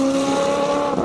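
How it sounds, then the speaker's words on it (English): A Nissan 350Z with an LS V8 engine screams past at a hillclimb race, a loud, sustained high-revving engine note over about a second. "This 350Z, also LS V8."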